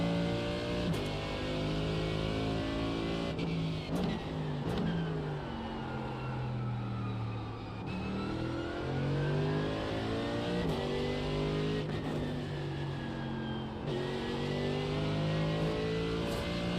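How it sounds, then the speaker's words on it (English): GT3 race car engine revving and accelerating through gear changes in a simulated race, a loud continuous mid-pitched roar with rising and falling pitch sweeps and brief shift dips, no talking. "I'm driving the fastest car."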